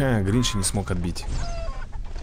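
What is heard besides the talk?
chicken clucking in the video game What The Hen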